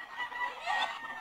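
A rooster at a poultry breeding farm gives a brief, fairly close clucking call, heard alone for about a second.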